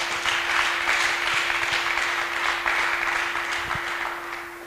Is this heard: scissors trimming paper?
no